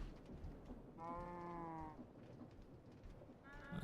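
Cows in a modded Minecraft world, a drawn-out mooing call followed by the start of another, faint under a low background hum.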